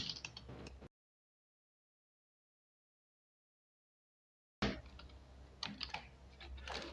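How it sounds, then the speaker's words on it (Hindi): Typing on a computer keyboard while entering text into Microsoft Excel, heard as quick, close clicking keystrokes in short bursts before and after a long stretch of silence. "तो ये मैंने टाइप किया यहाँ पे और ओके पे क्लिक कर देते हैं।"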